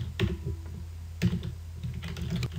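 Fingers tap keys on a computer keyboard at a Debian Linux terminal, with a few quick clustered keystrokes and short pauses, close and soft.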